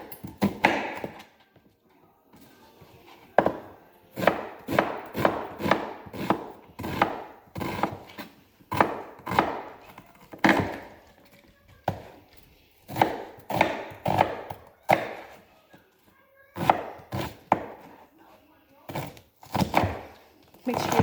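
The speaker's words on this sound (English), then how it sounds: "we're going to cut up our onion" Knife chopping an onion on a board for a crustless quiche, a long run of sharp close thunks in quick bursts with short pauses between them.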